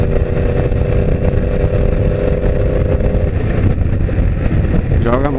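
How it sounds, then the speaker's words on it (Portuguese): A Yamaha R1 sport motorcycle engine runs loud and close, a steady droning roar with a rising rev in the last second, heard alone without any talk. "Joga a moto na sexta marcha"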